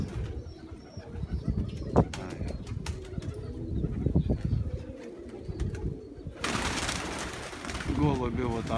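Pigeons coo repeatedly with soft chirps nearby, over a voice talking in the background, and a rush of wing flapping or rustling near the end.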